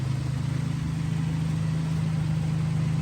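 A 1967 GMC C1500 pickup with a 305 V6, freshly fixed of exhaust leaks, idles with a steady low rumble, even and unbroken at moderate volume with no voices.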